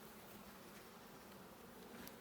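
Dense, steady hum of many honey bees buzzing together at a large hive, a continuous droning swarm sound filling the space without pause.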